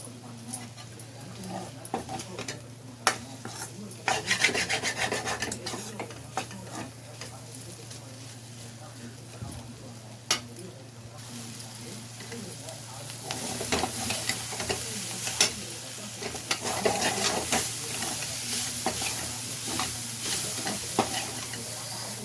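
Bitter gourd fries in a pan with a soft continuous sizzle, broken by repeated scraping and clinking stirs, close by and fairly quiet.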